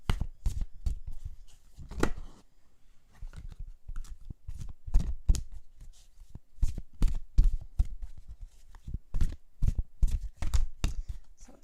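Tarot cards being shuffled by hand, a rapid run of dry riffling slaps and soft clicks in quick bursts, close and fairly quiet, with no talking.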